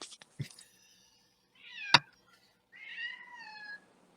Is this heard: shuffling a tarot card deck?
no